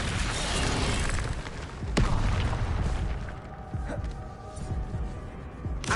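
Fire spell bursts cast in the game Hogwarts Legacy, a dense whooshing roar with a sharp impact near two seconds and another near the end, sustained and fairly loud throughout.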